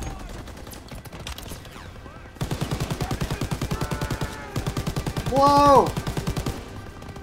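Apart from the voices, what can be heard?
mounted turret machine gun firing in video game Call of Duty WWII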